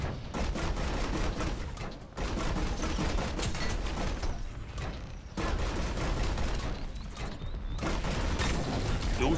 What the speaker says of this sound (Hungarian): Lucio lövöldöz.